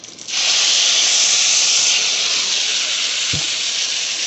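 Bhedailota and narasingha leaves with cumin, jaluk pepper, coriander and chilli are dropped into hot oil and burst into a loud, steady sizzle that hisses on without a break, with a brief knock near the end.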